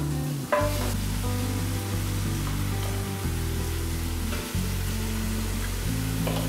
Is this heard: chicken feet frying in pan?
yes